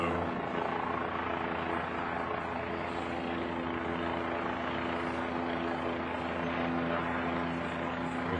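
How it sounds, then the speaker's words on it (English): A helicopter flies overhead with a steady, droning rotor and engine noise that stays loud and constant throughout. "The helicopter is bugging me because I can't find a helicopter stream anywhere."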